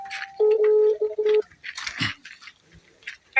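A phone dials out a call, giving a steady tone followed by a run of short beeping tones at close range, then a few rustles and soft handling noises with no talk.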